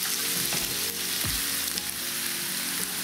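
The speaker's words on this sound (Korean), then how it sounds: "그리고 양파를 볶아줍니다." Onions fry in olive oil in a frying pan, giving a steady, close sizzle that runs the whole time with a few faint stirring knocks and no voices.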